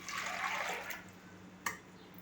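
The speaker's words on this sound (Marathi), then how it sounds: "एक वाटी वाटाण्यामध्ये एक वाटी मी पाणी टाकते" Water pours steadily for about a second into a pressure cooker with white peas, then a short clunk sounds, with faint background hum afterward.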